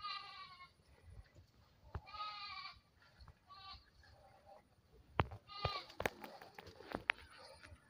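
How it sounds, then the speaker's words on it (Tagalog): Goats bleat near a rural bridge and road, several short wavering cries spaced through the scene at moderate distance, mixed with people talking and scattered knocks and clatter. "May kambing."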